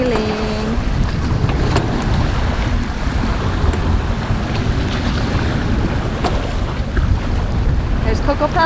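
A sailboat underway in about 15 knots of wind, heard as steady loud wind roar and rushing water along the hull, with faint creaks and tones over the constant noise.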